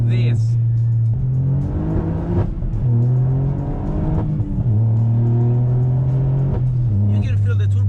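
A tuned Toyota Yaris GR, turbocharged and Stage 1 tuned to 335hp, accelerates hard on a road, its engine note climbing through repeated gear changes, loud and close from inside the car.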